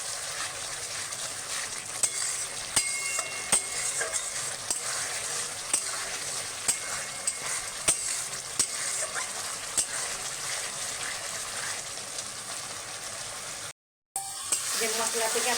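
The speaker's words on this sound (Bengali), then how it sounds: "এই মাঝে মাঝে একবার করে নেড়ে দিতে হবে, নাহলে তলা লেগে যাবে মশলাটা।" Masala for Bengali-style handi mutton fries in a pot and is stirred now and then. A steady close sizzle runs throughout, with sharp scrapes and ticks at intervals and a brief dropout near the end.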